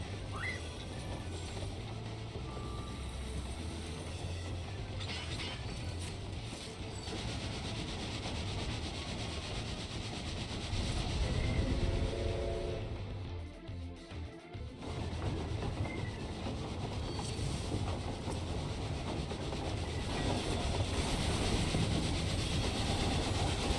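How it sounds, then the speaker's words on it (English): A train rumbles through a Final Fantasy XIV battle, heavy and steady, with mechanical rattling and a clickety-clack rail rhythm over roughly twenty-four seconds. It swells louder midway and briefly dips before continuing, and no one speaks. "Your opponent appears to be a train."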